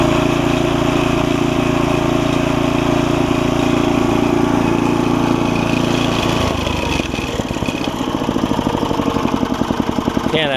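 An MTD Statesman tiller with a 5 hp Briggs engine, freshly repaired at the carburetor and gas tank, runs with a loud, steady drone that shifts into a choppier, pulsing beat near the end.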